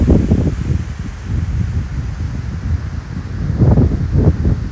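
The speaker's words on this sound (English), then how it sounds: "Whoa, it's getting windy now." Wind gusting through trees on a woodland hike in North Wales, a loud rushing roar with buffeting microphone noise that swells and eases, stronger again near the end.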